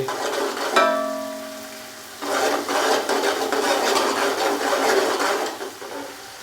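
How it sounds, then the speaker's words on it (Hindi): Ginger and garlic paste fries in a pan for a vegetable pulao, giving a steady sizzle with scraping stirring sounds and no talk. "अच्छे से मिक्स करेंगे और अदरक और लहसुन के पेस्ट को हल्का सा फ्राई कर लेंगे।"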